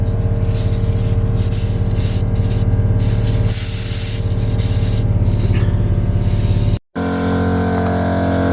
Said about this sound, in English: It sounds like I've got a little bit of a leak here.